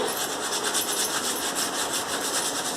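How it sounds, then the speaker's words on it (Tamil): Kitchen tiles scrubbed with cleaning liquid to lift oil paint stains, a close, steady rasping rub that keeps up continuously without pause. "இந்த மாதிரி லைட்டாக தேய்ச்சிக்கிறனாலே போயிடும் பாருங்கள்"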